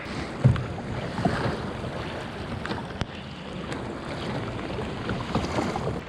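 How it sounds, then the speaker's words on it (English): Bigger offshore lake waves slap against a small fishing boat, a continuous rough wash of water and wind buffeting the microphone, with a few sharper knocks against the hull. "these waves are even bigger now that I'm out offshore"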